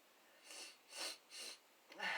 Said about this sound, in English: Check the nose sniffle.